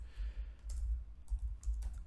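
Light typing on a computer keyboard, soft scattered key clicks in short runs, quiet and close with no voices.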